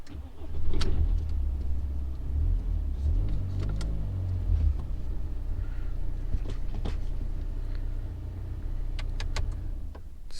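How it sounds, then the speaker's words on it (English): A BMW E81 1 Series petrol car engine cranks and catches close by, a loud low starter whirr and fire-up settling into a steady idle, with faint clicks over the running engine. "So I'm just going to start the car."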